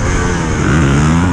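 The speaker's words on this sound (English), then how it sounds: "Oh, Yerick, give it some revs there and he's stuck in the mud" An enduro motorcycle engine revving hard while stuck in mud on a slippery quarry off-road track, a loud, close, continuous rasping engine note whose pitch rises and falls briefly, with no talk.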